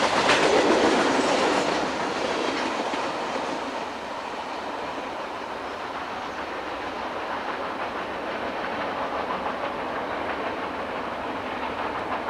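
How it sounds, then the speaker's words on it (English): Eastbound Conrail local freight led by two switcher locomotives hustling past at Furnace Road in Wernersville, Pennsylvania: a loud close roar of engines up front, then steady clickety-clack of wheels on rail as the cars roll by. "A local train utilizing two switchers hustles eastbound at Furnace Road in Wernersville."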